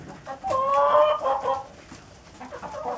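Egg-laying hens cluck close by in a short burst of soft, warbling calls that fade out.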